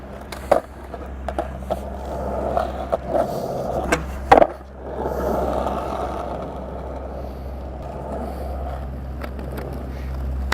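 A skateboard rolls along pavement with a rough wheel rumble, then a sharp clack as it jolts over a crack, followed by steady rolling noise, close by with no clear talking.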